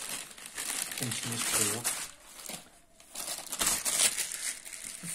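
Crinkling and tearing of packaging as a BM 800 condenser microphone box is opened, bursts of crumpling mixed with someone talking nearby, a brief lull midway.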